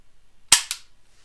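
A single dry-fire training pistol shot sounds as one sharp, close crack followed by a quick second click, then silence.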